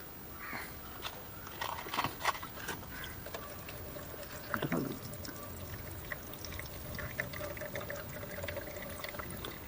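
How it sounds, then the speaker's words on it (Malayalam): Diesel is poured into the fuel filter of a Bajaj compact diesel engine, a quiet trickling pour with small clicks and handling noises from close by. "ഇത് മാക്സിമം നല്ല ഡീസൽ വേണം. അപ്പോൾ നമുക്ക് ഇതിലോട്ട് ഒഴിക്കാം."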